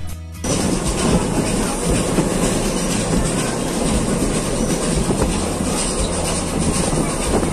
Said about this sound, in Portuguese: você também precisa fazer um passeio de Maria Fumaça, que levará até o nosso próximo destino, a cidade de Tiradentes